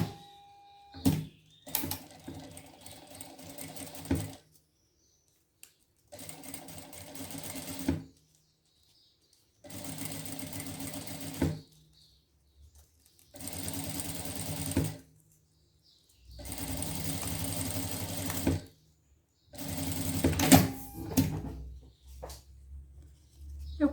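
Sewing machine stitches a seam along the pleated sleeve edge of a trapeze dress, sewing beside a paper guide, in several bursts of steady whirring run separated by short pauses.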